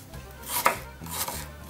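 A knife chops onions on a cutting board, a few distinct, close blade strikes spaced irregularly against a quiet background, with no one speaking.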